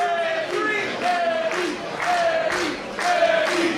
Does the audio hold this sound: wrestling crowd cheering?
yes